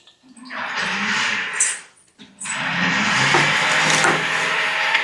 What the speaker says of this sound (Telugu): మిక్సీ అండి, అదేనండి సౌండ్.